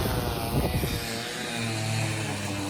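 A lawn mower engine mowing a front lawn in a village along the Camino de Santiago between Cee and Fisterra, Spain, drones steadily from a short distance, a continuous buzzing hum that fills the clip.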